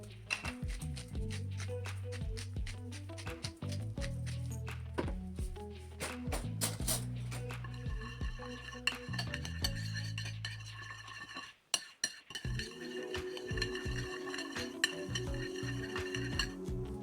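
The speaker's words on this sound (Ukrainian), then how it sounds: "І гарно розмішую ложкою." A spoon scrapes and clinks steadily against a bowl while stirring oil and salt, with rhythmic metallic taps and stirring sounds throughout, close and fairly loud.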